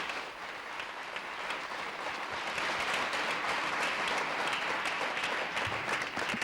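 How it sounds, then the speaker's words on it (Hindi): A quiz show studio audience claps for a contestant, a dense, even wash of applause that holds steady for several seconds with no voices on top. "तालियां एक बार फिर बजाइए आपके लिए"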